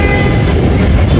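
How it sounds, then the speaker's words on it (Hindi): A train at a railway station gives a short, loud burst of low rumbling and rolling rail noise, dense and continuous, with no voices. "ट्रेन एक बार फिर रुक गई है"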